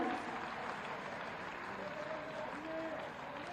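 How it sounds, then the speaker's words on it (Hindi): Faint applause from an audience at a Sanskrit scholarship ceremony, a soft, sustained patter of clapping in a large gathering, with a voice faintly audible beneath it. "जोरदार तालियां बजती रहनी चाहिए।"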